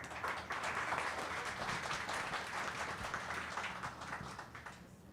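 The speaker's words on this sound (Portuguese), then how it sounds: "Salva de palmas" A room full of people applauds at a literary café event in Brazil, steady clapping filling the whole stretch at moderate volume and tapering slightly near the end.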